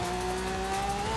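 A car engine in the racing game Forza Horizon 5, a steady droning tone held at a constant pitch, loud and close, with no speech.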